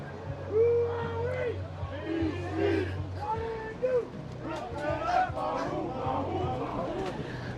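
Crowd on the beach cheering at a surfing contest, the 2025 South African Masters Championship, with scattered shouts and whoops rising and falling over a steady murmur of voices for several seconds.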